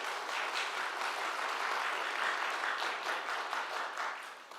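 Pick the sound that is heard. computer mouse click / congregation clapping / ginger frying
congregation clapping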